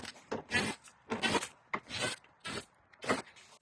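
Ratcheting removal of 7-8mm bolts from a BMW X3 ZF 8HP transmission cover, five close rasping bursts in a regular rhythm separated by short pauses.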